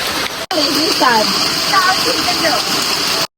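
Steady broadband rush of water falling at Thanneerkunju waterfall near Thodupuzha in Kerala, loud and continuous, with a person speaking over it.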